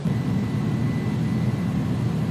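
Airbus A300 jet engines in the X-Plane 11 flight simulator drone steadily during the climb, a constant low, dense roar with no breaks.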